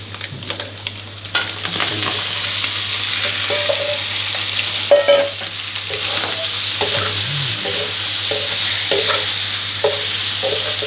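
Macaroni tossed in a wok over high heat with cooked egg and chicken, a steady sizzle under repeated scraping and clanking of the spatula against the pan, close up and with no voices.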